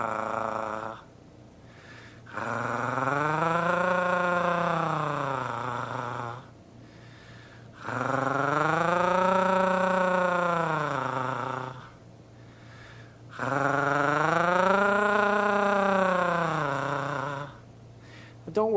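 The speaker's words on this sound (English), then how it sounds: "The next siren warm-up is called gargling." Three long gargling vocal sounds, each a rolling, throaty voiced tone that swoops up and back down like a siren, separated by short breaths.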